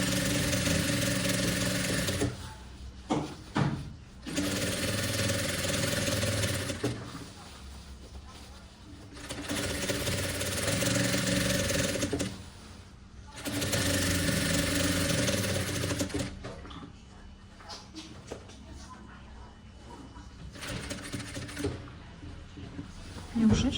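A sewing machine stitching a vest, running in four loud, steady whirring bursts separated by short pauses, followed by quieter handling sounds and some talking.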